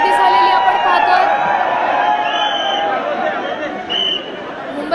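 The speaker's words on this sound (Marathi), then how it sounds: "मुंबईतल्या मानाच्या गणपतींपैकीचा एक गणपती चिंतामणी याचा आगमन सोहळा आता पार पडतोय आणि भाविकांची मोठ्या प्रमाणात गर्दी झाली।" A large crowd of devotees gathers for the Chintamani Ganpati arrival procession in Mumbai, a dense, continuous wash of chatter and shouting voices, loud and close throughout, with occasional cheers rising out of the roar.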